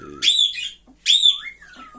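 Two loud, shrill bird calls, each a rising-falling squawk about a second apart, close by, with a softer chirp trailing after.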